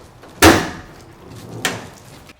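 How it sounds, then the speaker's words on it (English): Hood of a Ford highboy truck, said to have a 460 engine, being opened: a sharp metallic clunk followed by a fainter second thump about a second later, close by, with no talk. "I'll open up the hood and show you."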